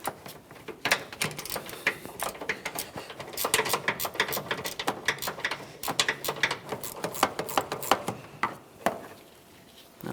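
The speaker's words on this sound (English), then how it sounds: "When using the ratcheting wrench, I'm also going to be using a small prying device just to hold this down" Rapid ratcheting clicks from a ratcheting wrench loosening the front strut nuts on a 2012-2015 Honda Civic, coming in close, busy bursts with brief pauses between runs.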